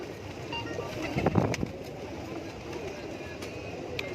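Teddy breed pigeons coo softly at close range amid faint background noise, with a brief louder flutter of activity in the middle.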